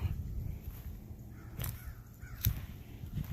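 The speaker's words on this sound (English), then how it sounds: "crow you can hear in the background is a big problem" A crow caws in a backyard garden, two sharp calls about a second apart at moderate distance, over low rumbling outdoor background noise.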